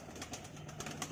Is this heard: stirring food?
no